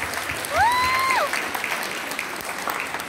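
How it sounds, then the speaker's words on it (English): A graduation crowd at Fletcher's Meadow Secondary School claps steadily, with a shrill rising-and-falling whistle cutting through early on, before the applause carries on at an even level to the end. "So let's clap."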